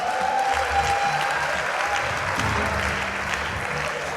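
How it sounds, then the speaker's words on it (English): A church congregation claps for Jesus, with sustained crowd applause that holds level for about four seconds, a few voices mixed faintly beneath the clapping. "Let's clap for Jesus."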